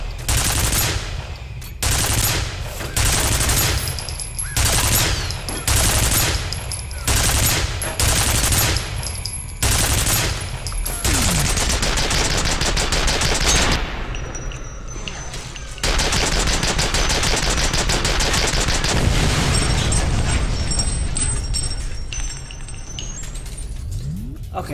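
Heavy automatic gunfire in the shooter F.E.A.R., loud close bursts in a steady stuttering rhythm, giving way to long continuous barrages with brief pauses and some high metallic ringing.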